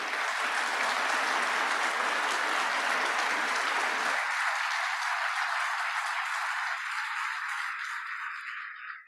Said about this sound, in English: please join me in a tremendous round of applause for Dr. Paul Zia.